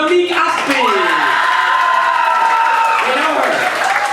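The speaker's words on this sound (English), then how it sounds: "keep that applause going for your next comedian, Monique Østbye" Audience at a stand-up comedy final cheering, whooping and applauding a comedian as she takes the stage, a loud dense crowd with high shouts and voices over steady clapping.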